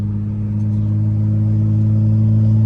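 A BMW 335i with the N55 engine runs just after a cold start, its deep steady drone held loud and close with gentle throttle and no sharp revving.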